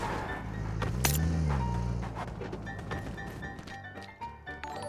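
A car engine in PUBG Mobile drones and revs through the whole stretch, with clunks and a rising whine mixed in, fairly close and steady.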